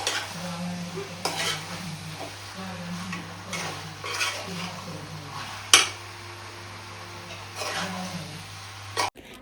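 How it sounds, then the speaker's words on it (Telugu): Country chicken stirred in hot oil in a pan, a steady sizzle with repeated scraping stir strokes and occasional utensil clanks against the pot, one sharp knock midway, no talking. "చికెన్ వేసుకున్న తర్వాత చికెన్ని బాగా కలిపి ఆయిల్ అంతా మంచిగా పట్టేంత వరకు కలిపి"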